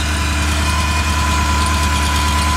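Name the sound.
motor running, about 30 years old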